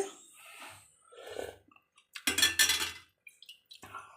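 A metal lid is set onto a pot of sambar cooking in a kitchen, a close clinking clatter of metal and glass around the middle, with soft handling noises before and after.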